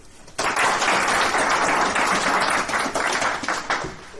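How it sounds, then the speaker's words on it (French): Applause from a crowd breaks out and holds steady, a dense even roar of many hands clapping for a team for a few seconds before slowly easing off. "Est-ce qu'on peut applaudir pour tout le monde?"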